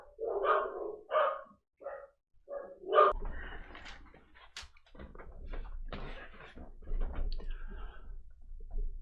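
Several dogs, one of them a puppy, bark in bursts at close range, a few sharp yips opening the stretch before more scattered barking continues over a low rumbling background.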